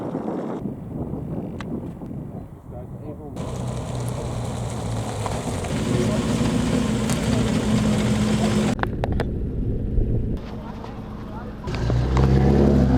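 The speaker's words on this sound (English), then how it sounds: "The first car is arriving." A car arrives and drives past fast, an engine rumble rising and swelling over steady wind noise outdoors, with a voice talking over it.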